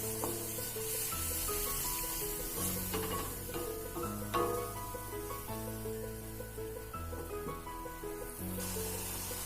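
Onion-tomato masala with a little water bubbling and frying in a pan for quail egg roast: constant close sizzling, with a steady music track playing underneath.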